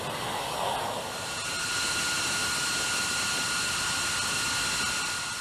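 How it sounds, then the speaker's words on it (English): Jet aircraft roar from an F-22 Raptor fighter with its Pratt & Whitney F119 engine: a loud, continuous broadband rush with a steady whine layered on top, holding strong throughout with no talking. "The Pratt & Whitney F-119 engine."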